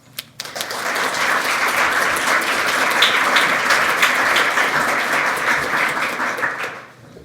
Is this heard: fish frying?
no